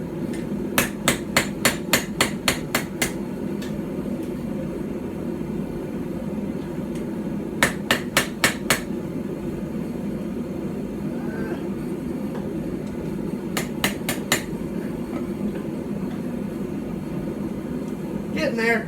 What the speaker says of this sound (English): getting a knife flat on this tiny anvil is gonna be a job